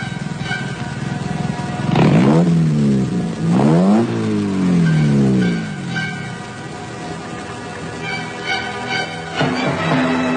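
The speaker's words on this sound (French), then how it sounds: "Une voiture s'est arrêtée." A car arrives on a remote road, its engine revving and whining through rising and falling pitch sweeps, loud and fairly close, then settling into a steadier idle.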